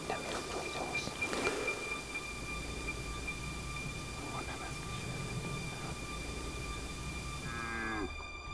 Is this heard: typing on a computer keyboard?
no